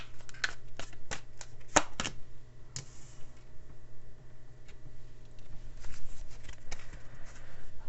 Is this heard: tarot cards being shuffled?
yes